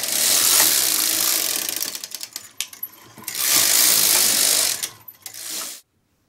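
A knitting machine carriage is pushed across to knit rows before an every-other-needle hem is hung. Two loud ratcheting sweeps are split by a brief clicking pause, and a short final pass ends in silence.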